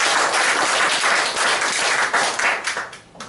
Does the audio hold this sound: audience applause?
yes